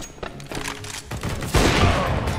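Gunfire in a Counter-Strike match: a few scattered shots early on, then a loud, dense burst of rapid fire in the second half, close and harsh, with no talk.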